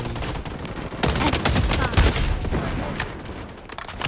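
Rapid bursts of gunfire from the shooter video game Blood Strike, loud and close, with dense overlapping shots and booms over roughly four seconds.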